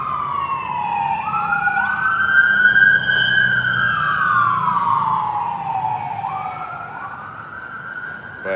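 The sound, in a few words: ambulance siren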